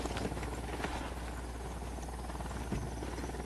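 Helicopter in the video game Ghost Recon Wildlands, a steady rotor and engine drone filling the whole clip at a constant, fairly loud level with no talk over it.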